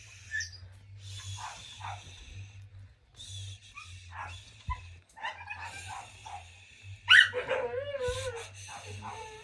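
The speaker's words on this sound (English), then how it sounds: "the dogs are waking up" Several dogs wake up and bark, yip and whimper at moderate distance, in scattered bursts over a low steady hum, the calls growing busier and more excited toward the end.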